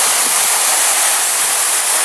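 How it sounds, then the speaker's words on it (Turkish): Suuçtu waterfall, also called Mustafa Kemal Paşa waterfall, pours into a large natural pool in hot summer weather, giving a steady, loud, close roar of falling water with no voices. "Şimdi de Mustafa Kemal Paşa Şelalesi'ndeyiz"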